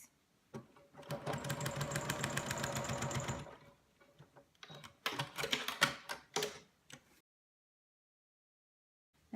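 A sewing machine stitches a quilt seam for a feathered star block: one steady run of rapid stitching lasting a few seconds, then a pause, then a second, choppier burst of short stop-start stitching before the machine falls quiet.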